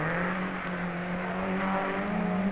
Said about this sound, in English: Andrew Cowan in his Sunbeam Tiger.